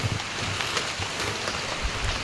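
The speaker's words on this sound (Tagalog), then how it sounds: "Naulan na guys." Steady rain falling in the mountains near a rest house, a dense, even hiss of drops with occasional heavier patters, continuous and close, with no voices.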